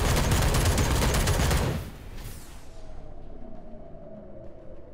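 Gunfire in the mech strategy video game Phantom Brigade, a loud dense burst of rapid fire that cuts off after about two seconds into a quieter low rumble.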